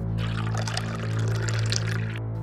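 Water pours steadily from a vessel in a 3D animated Hindi children's cartoon, with a continuous bright splashing stream over a low steady hum and no talk.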